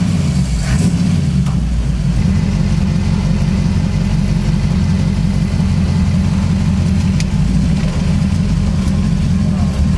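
A car engine runs and revs steadily up close, with a loud, continuous rumble and a rhythmic low pulsing throughout, plus occasional knocks.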